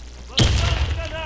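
Video game grenade explosion, a single loud close blast with a deep booming tail fading over about a second.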